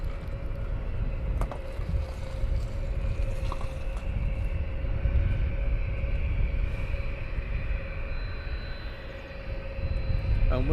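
An airplane takes off at Luton Airport, a steady broadband roar that holds at an even loudness for about ten seconds, with a faint sustained whine running through it.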